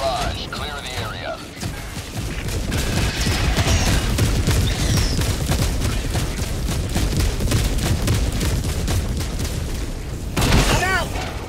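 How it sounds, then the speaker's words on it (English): Orbital barrage strikes in Helldivers 2 pound the area in a continuous rumble of heavy booms and crashes, dense and loud for several seconds amid battle noise and brief radio-style voice chatter. "Firing orbital barrage"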